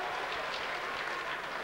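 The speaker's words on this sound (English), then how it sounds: "this Austrian crowd cheering everything that Beyer does" An Austrian crowd at a boxing match between Andy Flute and Marcus Beyer cheers and claps in a dense, continuous roar that stays at one level and fills the arena without a break.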